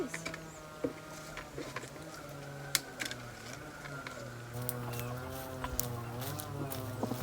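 Hens cluck in a rural village yard, with soft, scattered clucks and a few sharp clicks under a person talking nearby.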